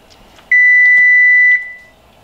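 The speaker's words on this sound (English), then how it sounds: "That alarm is letting us know that the dog food is ready to be cut and fed to the dogs." A single long electronic beep from a timer alarm signals that dog food is ready, a steady high tone lasting about a second, loud and close, then fading away in a quiet room.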